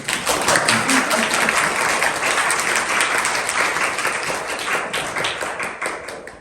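Applause from a dance class, a steady burst of many hands clapping at close range that runs for about six seconds and fades slightly at the end.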